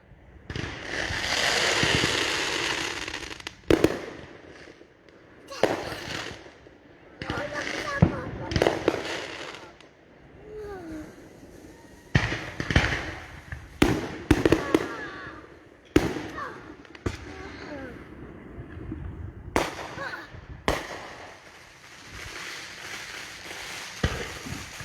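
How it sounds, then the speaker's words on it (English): Fourth of July fireworks exploding in 2021, a series of loud booms and sharp cracks at irregular intervals, some followed by crackling, with people talking and reacting between the blasts. "you can stand right here and watch fireworks"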